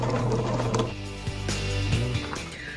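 Sewing machine working on a 1976 vintage jacket, a humming mechanical drone that breaks off as the presser foot is lifted and the fabric turned, followed by clicks and a brief restart, close and moderately loud.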